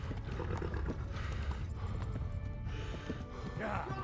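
Horse hooves clatter in a rapid galloping rhythm in Kingdom Come: Deliverance, mixed with game ambience and other noise throughout at moderate loudness.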